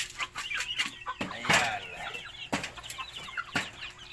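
Chickens clucking in a backyard coop, several birds making quick bursts of clucks and squawks, close and fairly loud, with short agitated calls recurring every second or so over a low hum.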